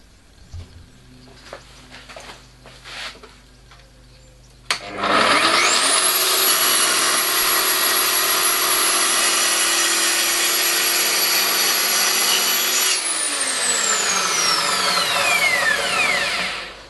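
Track saw cutting MDF: after quiet handling clicks, the motor snaps on and whines loudly through a long steady cut, then spins down with a falling whine.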